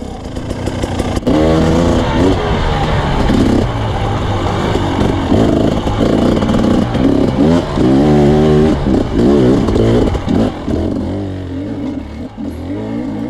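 A motorcycle fitted with a Mikuni carburettor, ridden hard on a test ride around a circuit, revs loud and close, its engine note climbing and dropping repeatedly through gear changes with a rough, buzzy rasp throughout.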